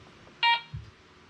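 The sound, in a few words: metal detector beeping over a log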